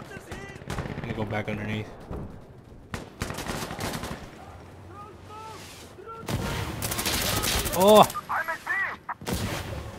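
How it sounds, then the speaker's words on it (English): Mortar fire in Insurgency Sandstorm: sharp gunshots, mechanical clatter and heavy blasts arrive in scattered bursts, loudest near the end, while someone talks between them. "here comes some mortars"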